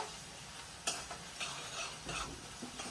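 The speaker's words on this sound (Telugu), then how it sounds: "ఇక్కడైతే ఆనియన్స్ అయితే వేయించేసుకుంటున్నాను ఆయిల్లో" Onions fry in oil with green chillies in a home pan, a quiet continuous sizzle with a few soft scraping stirs and clicks, faint and without talk.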